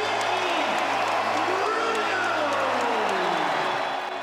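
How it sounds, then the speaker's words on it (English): A basketball arena crowd at Target Center roars as a point guard comes onto the floor, a dense, loud wash of cheering and clapping that holds steady and then starts to ease off toward the end. "listen to this Target Center crowd"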